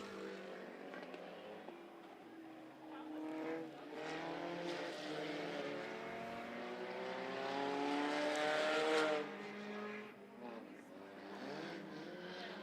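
Race cars from the Youth Tuner class on the final lap at Monarch Motor Speedway during a Texas Sprint Series night. Their engines whine in rising and falling sweeps, a moderately distant, layered roar that swells and then fades.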